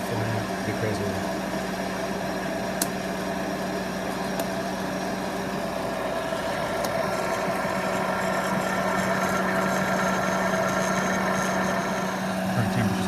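A cheap hot-air popcorn popper roasting sprouted green coffee beans gives a constant loud whirring blower hum with a rattling, busy texture of beans and chaff spinning fast, with no let-up throughout.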